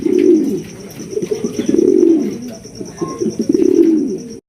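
A pair of Maltese pigeons coo steadily and close, with low rolling calls repeating in waves; faint chirps and a high steady hum sit behind them.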